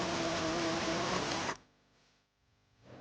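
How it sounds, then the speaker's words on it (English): An air saw trimming off a bumper pin on the frame of a 2013-2018 Hyundai Santa Fe Sport during trailer hitch installation, with a steady loud buzzing cut that stops abruptly halfway, leaving a quiet tail. "We're just going to use an air saw so that we can better get our bolts into place."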